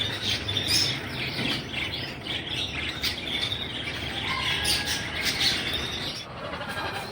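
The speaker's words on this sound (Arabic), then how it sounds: "هسه احنا بمحل الباشا ابو علي، راح اصور لكم الحمام اللي عندي." Pigeons and other birds at an animal market in Mosul, with busy overlapping chirps, coos and squawks filling the air continuously at moderate loudness.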